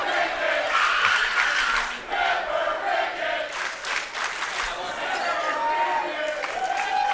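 A wrestling crowd roars and chants for Nautilus and Donnie Cricket, a loud and continuous mass of cheering and yelling with a commentator's voice running over it.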